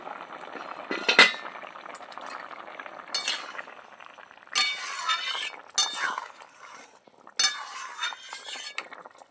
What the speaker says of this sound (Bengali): ঢাকাটা খুলে নিচ্ছি